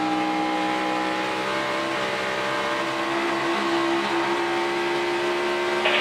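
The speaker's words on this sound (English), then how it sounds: "just how smooth Kevin is getting off the throttle and back to it" A NASCAR Sprint Cup race car at the 2014 Oral-B USA 500 in Atlanta roars with a sustained, high-pitched engine whine, easing slightly and building again as the throttle is lifted and reapplied.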